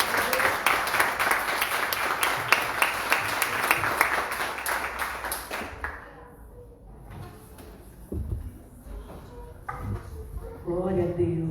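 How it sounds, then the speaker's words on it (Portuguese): Church congregation applauding: dense rhythmic clapping for about six seconds, then fading into quieter room noise with scattered thumps and a voice returning near the end. "Você pode aplaudir ao Senhor?"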